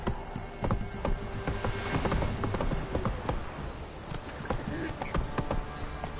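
Roach, the horse in The Witcher 3, gallops with a brisk, continuous clip-clop of hooves close by, while people talk over the hoofbeats.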